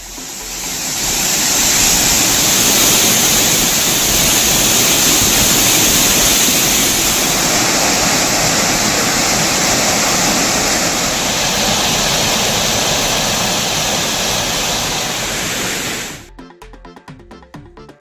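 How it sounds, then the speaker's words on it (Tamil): Waterfall in the Western Ghats hills swollen by monsoon rain, roaring loudly and steadily with dense broadband rushing water close by, no voices, cutting off abruptly near the end. "மேற்கு தொடர்ச்சி மலைப்பகுதிகளில் பெய்து வரும் மழை காரணமாக அருவிக்கு நீர்வரத்து அதிகரித்துள்ளது"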